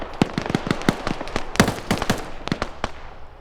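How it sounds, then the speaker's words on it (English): Rapid bursts of gunfire from a video game, sharp cracks repeating in irregular clusters, fairly loud and close, with no voices over them. "Just follow the gunshots"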